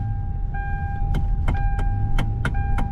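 Repeated sharp clunks from a worn steering coupler bushing on a Kia while driving, about six evenly spaced knocks over steady road and engine rumble, with a faint tonal whine running underneath.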